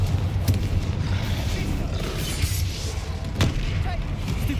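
Spell blasts from Hogwarts Legacy gameplay: repeated booming explosions and crackling magic bursts with sharp impacts around one and three and a half seconds, over a dense game soundtrack bed.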